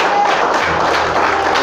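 Church congregation applauding, a brief burst of dense clapping from a crowd, heard under a sustained musical tone.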